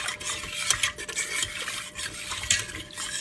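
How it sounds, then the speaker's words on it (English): A spoon stirs broccoli cheddar soup in a pot, giving a continuous close-up scraping and sloshing with soft metallic scuffs against the pot, and no voices. "stir that for a bit"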